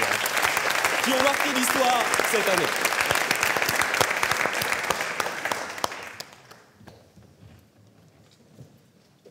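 Dense applause from the audience at a national debate championship final, loud and sustained with a speaker's voice over it early on, then fading away to near silence.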